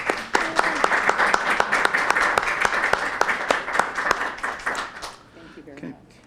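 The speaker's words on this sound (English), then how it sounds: "let's give the Board of School Directors a big round of applause" A crowd at a school board meeting applauds steadily with dense, sharp claps for several seconds before the clapping thins out and dies away.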